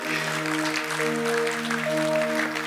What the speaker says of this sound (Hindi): तालियां बजाओ, ये है स्वदेशी।